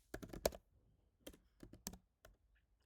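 A user ID being typed on a computer keyboard: quick bursts of close, crisp key clicks in short uneven runs with brief pauses between them.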